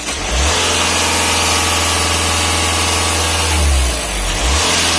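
Volkswagen Passat engine with a faulty dual-mass flywheel, heard up close: a steady idle rumble rises into a sustained rev, settles, then revs again briefly near the end, with no talking.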